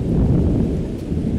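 Heavy rain pours with a deep rumble of thunder in a horror video game, a loud, constant wash of low noise close around the listener.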